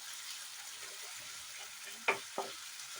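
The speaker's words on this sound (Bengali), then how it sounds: "দিয়ে ভালো করে এটা মিক্সড করে নিচ্ছি" Baby potatoes being mixed with sour yogurt in a pan, Punjabi style: a soft, low sizzling hiss with a couple of quick spoon scrapes near the end.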